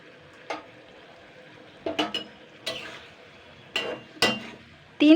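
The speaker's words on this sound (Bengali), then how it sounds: "তিন থেকে 4 মিনিট একটু নাড়াচাড়া করে নেব" Rotis being stirred into a spiced gravy in a pan make a few separate bursts of scraping and soft sizzling, each short and fairly close, with quiet gaps between them.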